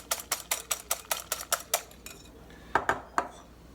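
Egg white and yolk whisked together in a bowl for Greek avgolemono fish soup, a quick run of about a dozen evenly spaced utensil clinks against the bowl, then a pause and a few more scattered taps, close and clear with no talk.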